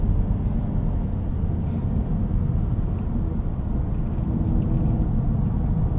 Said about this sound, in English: driving so far, you can really tell that the cabin is very quiet, very refined